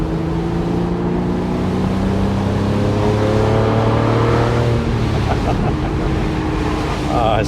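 A Porsche 987 Boxster at speed gives a steady engine and exhaust drone with tones sliding in pitch as it shifts, under heavy wind and road rush.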